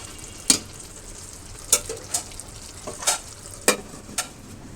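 Minced meat frying dry in a home kitchen pan, a low continuous sizzle punctuated by several sharp scraping stirs of a spatula at irregular intervals, fairly close and moderately quiet.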